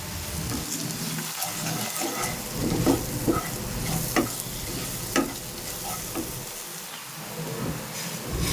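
Ground cumin and coriander masala for a Bengali pomfret curry frying in a pan, a continuous soft sizzle broken by spatula scrapes and stirring knocks at an irregular pace, close by with no talking.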